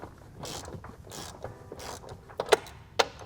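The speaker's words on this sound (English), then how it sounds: "So now we'll grab our 16 millimeter and loosen these 2 bolts." A 16 mm ratchet loosens the upper tie bar bolts on a BMW B58 engine bay, giving soft clicking strokes followed by a few sharp, louder metallic cracks as the tight bolts break free.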